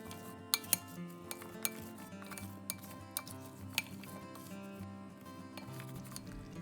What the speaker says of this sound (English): Then you're going to add all of your prepared ingredients into a large bowl. And then you're going to mix it all together.